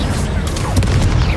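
An Incendio fire spell cast in Hogwarts Legacy, a loud booming burst with a short crackling tail over a dense rumbling game mix, with a voice speaking over it.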